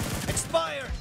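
Gunfire in the PUBG Mobile game, a burst of rapid sharp shots from a team deathmatch, loud and close with a brief ringing tail.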